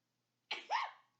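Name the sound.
sneeze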